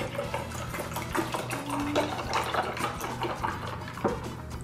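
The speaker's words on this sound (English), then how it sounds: "Just gonna pour that in here." Almond milk pours steadily into a glass with a soft, continuous splashing trickle, close by and fairly quiet over a low background hum.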